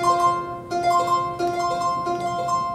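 A Paraguayan harp plays a bright melody that imitates the ringing call of the bellbird. Clear plucked tones come in three short phrases, one starting about every 0.7 seconds, each ringing steadily with no voices.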